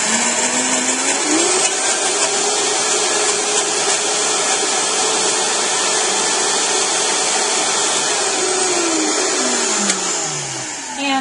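A Vitamix high-speed blender roars steadily at full power making vegan mayonnaise, loud and close, its pitch shifting slightly before winding down near the end.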